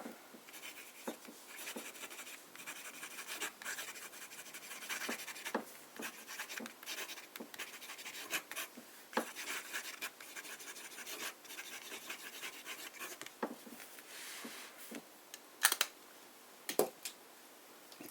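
Broad-nib fountain pen writing in Pelikan Königsblau ink on paper, close and quiet scratchy strokes in irregular bursts with small taps and lifts, continuing for many seconds with no voices.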